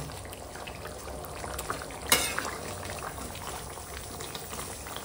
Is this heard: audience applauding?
no